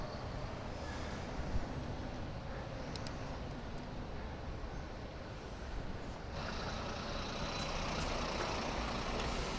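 London junction traffic heard from a bicycle, boxed in by buses and coaches: a dense, steady rumble of heavy engines close by, with a hiss of air brakes and brief high beeps, no talk.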